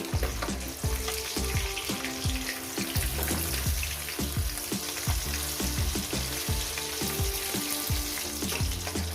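Pabda fish fry in oil with a constant dense sizzle, under a rapid, rhythmic low thumping or bubbling pulse running throughout; no one speaks.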